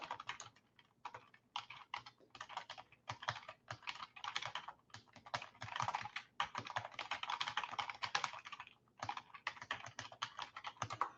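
Rapid, uneven bursts of typing on a computer keyboard, close and fairly quiet, with brief pauses between runs of keystrokes and no talking.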